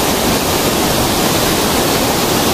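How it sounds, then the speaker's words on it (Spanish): A waterfall heard from its top roars as a loud, constant broadband rush of falling water, unbroken and close. "En la cima de la cascada."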